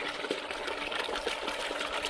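A pump pushing out dirty, rusty water during boat and home work: a continuous splashing gush of liquid, close and steady, with small spatters throughout.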